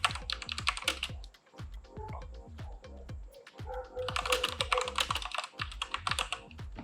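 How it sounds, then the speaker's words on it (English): Rapid, steady typing on a computer keyboard, close up, with dense clattering keystrokes that continue without pause. "click in the center, and you just start typing"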